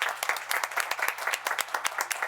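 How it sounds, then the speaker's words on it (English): A crowd applauding, with dense rapid clapping that stays steady and fairly loud throughout. "give her a round of applause first"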